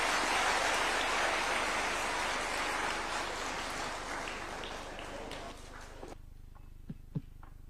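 A dense wash of audience applause at a presidential ceremony, loud at first and fading over several seconds to sparse scattered claps at the end.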